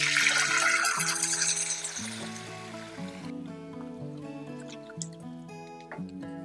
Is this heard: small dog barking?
no